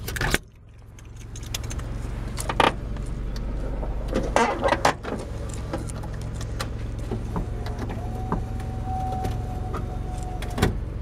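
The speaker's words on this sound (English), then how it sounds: "Hear the motor running, windows not going up and down." An electric power window motor in a parts car hums steadily while the jammed windows stay put, a thin continuous whine running for several seconds amid clicks and jangling keys, close and fairly quiet, with no talking.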